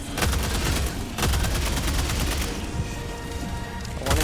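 Weapon fire in Helldivers 2 comes as loud, sustained automatic bursts of rapid shots with heavy booming impacts, breaking off briefly between volleys.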